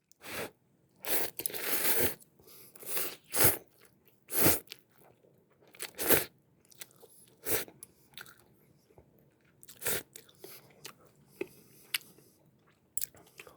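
Close, crisp crunching and biting of Ottogi shrimp cup noodles being eaten, irregular loud chews and slurp-like bursts spread across the span with no talking.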